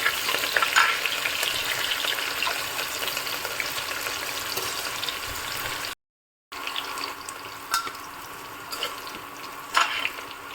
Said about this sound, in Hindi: और इसी के साथ डाल देंगे हम प्याज और हरी मिर्च, और सभी को अच्छे से लाल होने तक भून लेते हैं